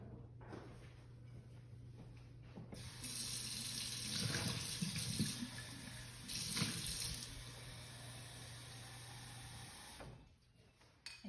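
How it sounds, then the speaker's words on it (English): A sink tap runs to draw clean water for watercolor painting, a steady rushing stream starting after a few seconds and splashing louder midway, then shutting off near the end over a low background hum. "So I'm just going to get some clean water here."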